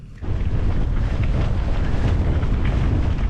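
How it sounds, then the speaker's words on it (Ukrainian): Strong, steady wind buffets the microphone with a loud low roar that starts abruptly and persists throughout. "Тут такий нормальний вітер."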